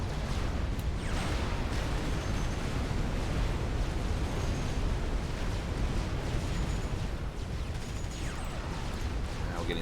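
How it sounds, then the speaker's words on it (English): Dense, continuous barrage of booming explosions and artillery-like blasts from Galaxy-class battleships in the strategy game Supreme Commander, a steady loud rumble of overlapping impacts with a voice faintly underneath. "they're taking a lot of Galaxy-class battleship fire from the backfield"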